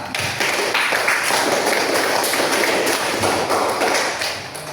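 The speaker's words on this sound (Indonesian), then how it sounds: "sekali lagi kita beri tepuk tangan untuk kelompok A" A classroom group claps for group A in a teacher-training session, dense continuous applause from many hands filling the room at a steady level, fading slightly at the end.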